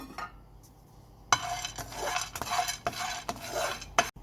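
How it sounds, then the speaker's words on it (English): Cashew nuts and almonds being dry-roasted and stirred in a pan for Goan sweets, giving scraping, rattling stirring strokes with light clinks against the metal and a soft sizzle, up close. "Now she's roasting the cashew nut and almonds."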